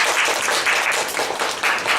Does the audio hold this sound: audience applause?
yes